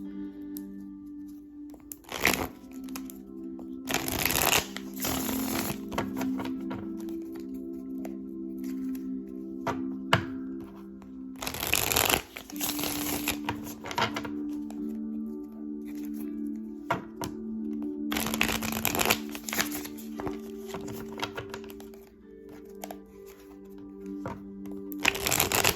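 Repeated bursts of tarot cards being riffled and shuffled, crisp and close, with a soft steady hum underneath and short pauses between shuffles.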